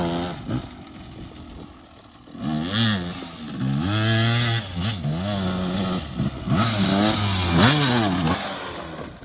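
A KTM 300 junkyard dirt bike that needs jetting work revs hard and rides nearby. The two-stroke engine whines in repeated rising and falling pitch sweeps as the throttle is blipped and opened, loud and close throughout.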